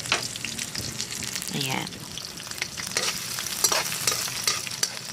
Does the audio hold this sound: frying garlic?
yes